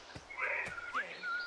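A character whistles in Assassin's Creed IV Black Flag, a short rising and falling tune lasting about a second over faint ambient game noise.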